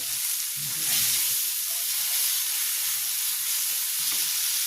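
A spice paste fries in oil in a village kitchen, giving a steady, close, dense sizzle that holds evenly throughout with faint scraping stirs underneath and no voices.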